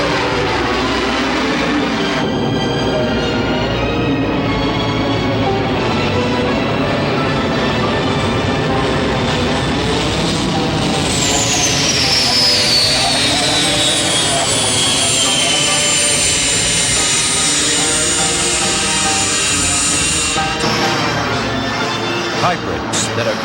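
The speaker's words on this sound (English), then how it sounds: "Hybrids that are combinations of airplane and helicopter." An airplane-helicopter hybrid aircraft in flight, a loud sustained engine and rotor roar with a rising whine partway through, steady and close throughout.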